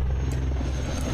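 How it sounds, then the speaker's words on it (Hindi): A helicopter in the Call of Duty Modern Warfare II video game gives off a steady, loud low rumble with rotor drone throughout, close and unbroken, with no talk over it. "अब ये मत कहना कि हेलीकॉप्टर हमें मारने आया भाई"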